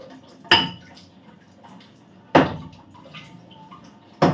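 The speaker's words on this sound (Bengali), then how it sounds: "তাই জন্য কড়াইটা ধুয়ে নিচ্ছি" A kadai (wok) being washed with water, giving three sharp metallic clanks of the pan spaced a couple of seconds apart over faint splashing and scraping, with no voices.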